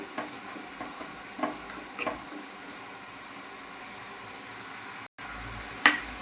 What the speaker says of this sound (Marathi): आणि हे थोडे असे मॅश करून घेऊ, आणि हे शिजलेले असल्यामुळे लवकर मॅश होऊन जातात।